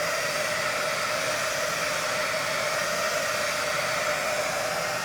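A hair dryer blows steadily at close range, a constant, even rushing whoosh that holds at one level from start to finish with no talking over it.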